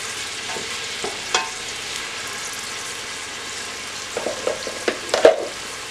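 Chopped onion from a very large onion fries in olive oil, a soft continuous sizzle joined by clustered spoon scrapes and knocks against the pan as it is stirred, with no talking.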